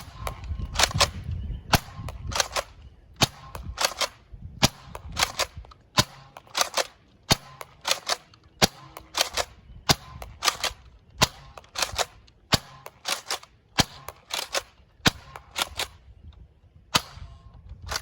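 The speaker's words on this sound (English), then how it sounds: "let's jump into the firing demo, starting off with Nerf Rival rounds" Repeated dry snapping shots from a Nerf Rival Curveshot Sideswipe blaster firing foam Rival rounds, sharp cracks at irregular intervals roughly every half second to second over eighteen seconds, close and loud with faint mechanical clicks between.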